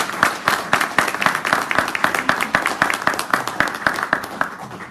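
An audience claps steadily for a speaker at a podium, a dense and sustained round of applause with sharp individual claps that stays strong throughout and eases slightly near the end.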